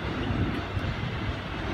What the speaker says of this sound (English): train arriving into platform 2.